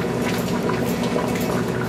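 Zucchini soup bubbling steadily in a pot as it cooks with bouillon, a continuous close simmering burble with no voices over it.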